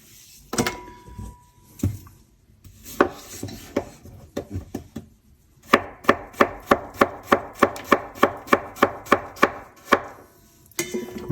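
A sharp knife chops potatoes on a board for a Spanish potato tortilla: a few scattered cuts, then a quick, evenly spaced run of crisp chops close by, with no talking.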